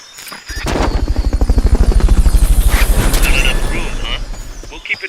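A Fulton recovery helicopter in Metal Gear Solid Peace Walker, its rotor beating in a loud, steady rhythmic chop that swells and then fades, with a voice speaking over it.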